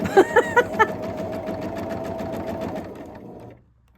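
Close-up sewing machine stitching a quilt block: a few quick clacks at the start, then a steady mechanical whir for about three seconds before it stops.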